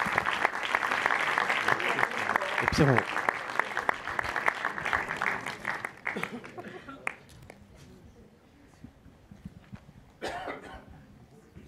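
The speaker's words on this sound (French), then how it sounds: "Applaudissez-les bien fort" Applause from an audience at a film festival awards ceremony, sustained and fairly strong for about six seconds before thinning into scattered claps, with a presenter talking and a brief renewed burst near the end.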